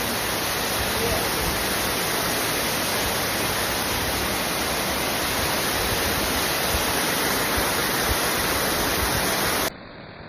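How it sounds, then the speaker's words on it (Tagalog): The Thousand Layers waterfall at Lantaw roars loud and continuous, a broad, unbroken rush of falling water close by that drops in level right at the end. "As you can see guys, the falls is very beautiful and amazing."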